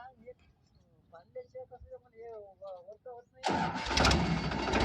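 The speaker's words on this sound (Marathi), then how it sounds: "आता ट्रॅक्टर चालू करते" On a farm, a tractor engine cranks and catches at the end, roaring loudly into a rough idle after several seconds of someone talking.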